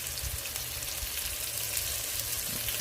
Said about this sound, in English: So you don't listen to the sweet sounds of this sizzle.